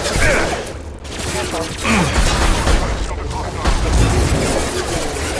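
Sniper rifle fire in the video game Mass Effect 2: sharp booming shots stand out from a dense, loud bed of combat effects and mechanical noise, with a voice speaking between them.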